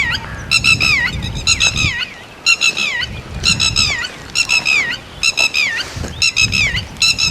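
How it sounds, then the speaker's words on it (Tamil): Loud, repeated honking bird calls come in bursts of several squawks each, close by at the grounds of a ruined, demolished school in Palaly, Jaffna, with a rustling breezy background between calls. "அந்த பறவை சத்தத்தோடு"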